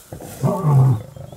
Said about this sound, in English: that's the sound of the male lion.